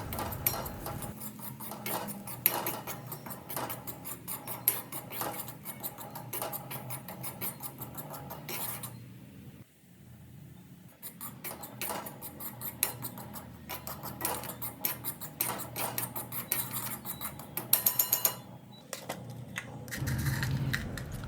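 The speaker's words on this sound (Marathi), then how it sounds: "मग तुपामध्ये आपण चांगला खमंग असा रवा भाजून घ्यायचा आहे।" Semolina roasts in ghee while a spoon keeps stirring and scraping the pan, making quiet, busy clicks and patters. The sound continues for about twenty seconds and dips briefly partway through.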